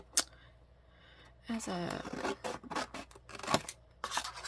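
Scissors snip through paper to cut tabs for a Peter Rabbit themed journal, several short crisp cuts and rustles close to the microphone, with a person talking in between.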